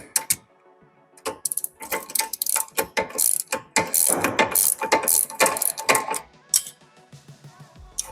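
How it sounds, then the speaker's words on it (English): A socket ratchet loosens a 16mm nut on the control arm of a BMW E90 while a 17mm spanner holds it, giving close, loud bursts of rapid clicking strokes separated by short pauses. "I'm going to come in here with a 17mm spanner and then a 16mm socket, and I'm going to break this free"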